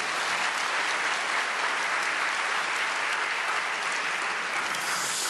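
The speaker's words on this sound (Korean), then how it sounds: "우리 다 같이 강사 목사님을 박수로 환영하겠습니다." A church congregation at a prayer meeting for peaceful reunification claps steadily as it welcomes a guest pastor, a dense, even wash of applause that lasts over five seconds with no talking.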